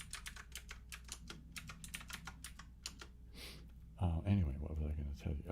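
Rapid clatter of keys on a computer keyboard, steady and close, with a voice taking over in the final stretch.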